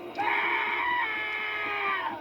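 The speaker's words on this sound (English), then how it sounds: "What was that scream?" A long, high, wavering scream in an animated horror story, loud and sustained for about two seconds with no talk over it.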